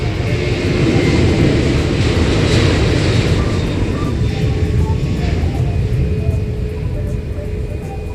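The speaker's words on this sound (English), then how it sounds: "Shandong Airlines coming in from Jinan or Jinan." Shandong Airlines jet arriving at Seoul Incheon Airport, a loud, continuous low roar of aircraft engines that holds steady and eases slightly toward the end.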